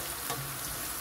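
Bay leaves or similar whole leaves frying in a pot for New Year beef pulao, giving a steady close sizzle with faint stirring scrapes, no voices.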